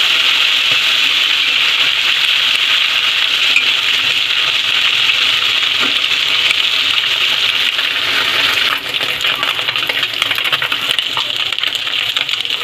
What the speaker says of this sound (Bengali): এইভাবে আস্তে আস্তে করে উল্টে পাল্টে ভেজে নিতে হবে।